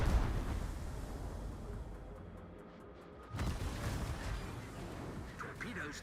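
Warship secondary battery guns firing in World of Warships, deep booming blasts up close, with a heavy rumble fading out and then another burst of gunfire and rumble.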